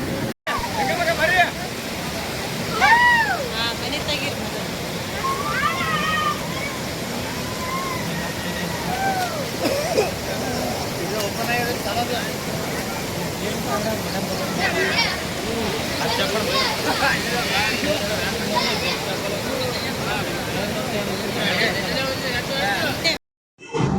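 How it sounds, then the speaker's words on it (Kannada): Floodwater rushes and flows inside the mini Vidhana Soudha government building in Jevargi town after torrential rain, a steady, fairly faint sloshing hiss that continues throughout with occasional brief tonal sounds over it. "ಜೇವರ್ಗಿ ಪಟ್ಟಣದ ಮಿನಿ ವಿಧಾನಸೌಧದ ಒಳಗಡೆ ತುಂಬಿ ಹರಿಯುತ್ತಿರುವ ನೀರಿನ ದೃಶ್ಯ"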